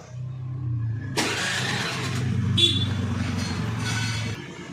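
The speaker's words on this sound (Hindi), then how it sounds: "अब इसे स्टार्ट करके आप लोगों को साउंड वगैरह सुनाते हैं।" Honda Dio scooter engine starting after repair in a workshop, a low steady putter with a brighter burst as it catches, fairly close and moderately loud, no talk.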